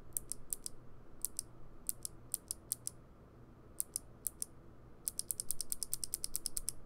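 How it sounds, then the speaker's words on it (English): Clicky mechanical keyboard switches being pressed into a Duckypad macro pad, heard as bursts of sharp, close clicks in quick clusters with pauses between, ending in a longer rapid run of snaps. "the next step they're saying is to put the switches in"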